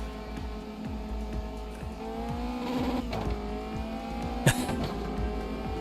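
A Caterham race car engine in a racing video game at Kyle Army, a steady droning note that climbs and shifts as the car accelerates, with a brief sharp burst partway through.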